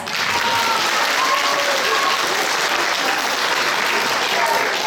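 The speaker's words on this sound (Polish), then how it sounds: "Duże brawa prosimy na maluszków jeszcze raz." Dense, steady audience applause for three-year-olds performing at a Grandmother's and Grandfather's Day event in Lututów, Poland, sustained and fairly loud for the whole stretch without a break.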